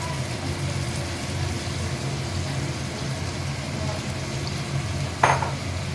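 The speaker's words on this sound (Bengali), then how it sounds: "ফেটিয়ে রেখেছিলাম, সেই ফেটানো টক দইটা দিয়ে দেবো।" Whisked sour yogurt poured into masala frying in a pan over a low gas flame gives a steady, close sizzle and hiss throughout, broken by one brief clank of a utensil near the end.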